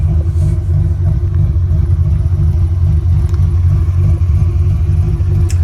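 Ford Foxbody Mustang with Flowmaster 40 series mufflers, a loud, deep, steady exhaust rumble with an even throb, heard close and alone.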